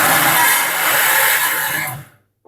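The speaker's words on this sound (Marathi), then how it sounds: "भाजलेली राई आता थंड झाली आहे आणि ती आता मिक्सरवर दळून घेत" An electric mixer grinder whirs loudly as it grinds roasted, cooled mustard seeds into powder, a sustained harsh motor roar that winds down and cuts off near the end, followed by a brief quiet knock.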